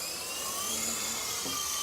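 A Sky Rover Phoenix 4-channel RC helicopter lifts off from grass outdoors, its small motor and rotors giving a thin, high, steady whine with a slight pitch rise, close by and alone.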